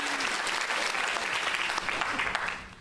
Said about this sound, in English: I think we can do an extra clap for our co-MCs.